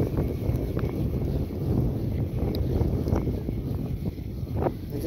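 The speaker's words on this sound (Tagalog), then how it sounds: "Medyo may amihan pero okay lang yan." Steady northeast monsoon wind at sea, buffeting a small fishing boat, a constant loud rumble with gusty microphone wind noise throughout, no voices.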